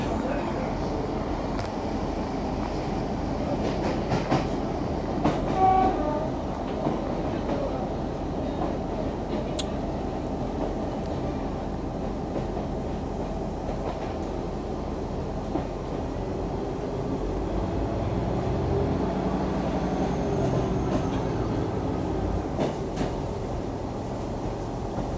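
A Northern Rail train runs between Barnsley and Huddersfield, heard from onboard as a continuous low rumble with rhythmic wheel clatter and occasional squeaks and knocks over about 25 seconds, with faint talk in the carriage.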